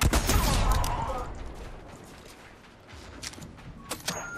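Burst of gunfire in Fortnite, a loud rattling volley up front that dies away, followed by a few sharper isolated shots later.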